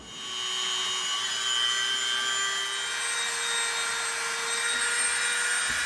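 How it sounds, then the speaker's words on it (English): A Dremel rotary tool spins into EVA foam to form rivet details on a handmade RE-45 auto pistol prop, giving a steady high-pitched whine that holds for several seconds, close and alone. "now we're going to use our Dremel. We're going to make a couple more rivets."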